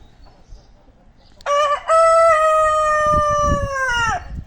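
A rooster crows once, loud and close, a long drawn-out call with a brief break near the start, over faint background noise.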